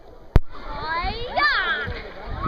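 A camera plunging under the water while a child swims at Bird's Hill, a sharp splash followed by muffled, bubbly underwater gurgling with faint warbling tones, close to the microphone.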